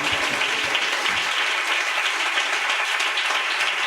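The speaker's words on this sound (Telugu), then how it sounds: "చప్పట్లు కొట్టి గట్టిగా ప్రభువుని కనపడతాం." A church congregation at a fasting prayer meeting claps together, dense continuous applause from many hands, close and loud for the whole stretch.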